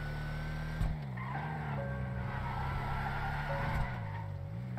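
A fast car in the video game GTA V skids with squealing tires while being pulled in to park, a loud tonal screech under a steady engine drone, heard alone.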